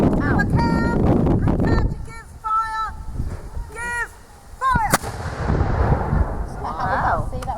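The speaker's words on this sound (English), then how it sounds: "Nice bang there. Now, they fired the artillery piece." An artillery piece fires at an English Civil War re-enactment, giving one loud outdoor boom that rolls off with wind noise, while people talk and call out around it before and after the shot.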